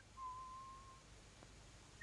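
A faint, thin whistled tone from behind a closed door holds for about a second, then a brief higher whistle follows, muffled and quiet against a hushed background.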